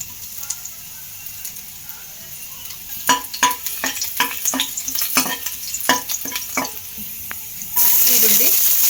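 Garlic fries in oil in a pan for restaurant-style veg fried rice, with a low sizzle under quick metallic taps and scrapes of stirring, then a sudden louder hiss near the end.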